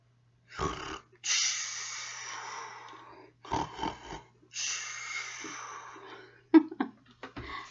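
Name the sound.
snoring imitating a sleeping dragon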